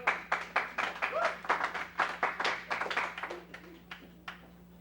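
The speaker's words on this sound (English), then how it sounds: "we prefer that you did not clap following people's speeches" Audience applause after a public comment at a school board meeting, a run of scattered, uneven claps at moderate volume that thins out toward the end over a steady room hum.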